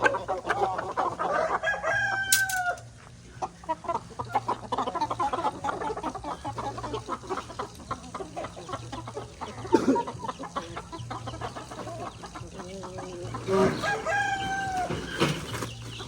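Chickens cluck and a rooster crows in a rice field, with two clear crows standing out near the start and the end over steady nearby clucking and faint outdoor background.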